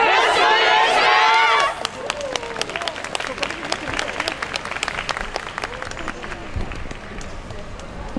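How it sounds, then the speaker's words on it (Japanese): A street-festival crowd at the YOSAKOI Soran Festival in Susukino claps along in sharp, rhythmic beats as a dance team begins. A loud voice calls out over the start, then the clapping carries on with background chatter. "お手拍子、お心拍子、よろしくお願いいたします。"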